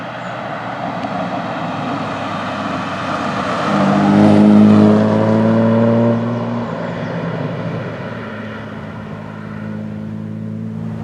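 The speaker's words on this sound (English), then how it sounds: "the engine is just lovely. It's got a little warble about it" A Jaguar MK2 engine hums steadily while driving, swelling into a louder warbling drone midway before settling back to a smooth, even note.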